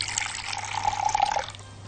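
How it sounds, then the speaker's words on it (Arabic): Tap water runs steadily into a sink as hands are wetted for shaping chicken kibbeh shells, a continuous close splashing flow that cuts off near the end. "هجيب شوية مية كده عشان أبل بيهم إيدي عشان ما تلزقش"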